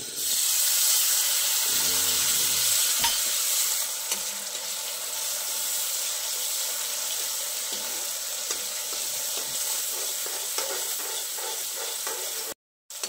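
Onion and tomato fry together in a pan for homemade pasta, producing a loud, dense, steady sizzle with occasional stirring, then cutting out abruptly near the end.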